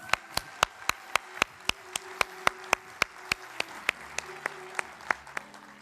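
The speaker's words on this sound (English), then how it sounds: "Applause," Sparse, slow handclaps from a small audience at an opening ceremony as a Colombian CEO takes the stage, sharp distinct claps in a steady rhythm, fairly near, with faint background tones and no talk over them.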